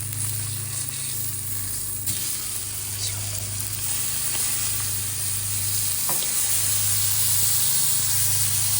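Steaks sear on a Blackstone griddle with a loud, continuous sizzle and hiss, steady throughout, with a low hum underneath and a few faint clicks of handling; no voices.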